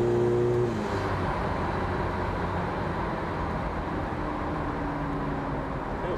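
A VW Caddy with a 2.0 TDI CUAA diesel, 4Motion and DSG, tuned to 356 bhp, accelerating with the throttle flat at low revs: a loud, steady engine and road roar that fills the whole stretch.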